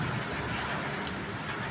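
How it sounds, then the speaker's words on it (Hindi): Heavy rain falls outdoors under dark clouds, a steady broadband hiss with scattered drop impacts throughout, moderately loud and with no speech. "बहुत तेज़ बारिश हो रही है"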